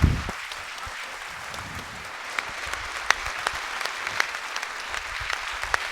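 Audience applauding at a municipal New Year's greetings ceremony with a youth council, steady sustained clapping from a crowd throughout, fairly close and even in loudness.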